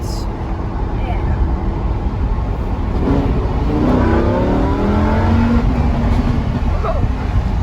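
A Lamborghini engine revs and builds in pitch with the windows down, a loud sweeping roar that rises midway and holds, heard from inside the car.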